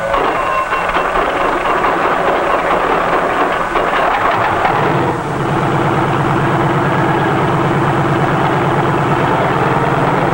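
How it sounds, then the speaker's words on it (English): A helicopter engine runs with a steady, loud mechanical drone, shifting into a smoother, even hum partway through as it warms up. "A self-starter starts the engine, and after a careful warm-up, we're ready to take to the air."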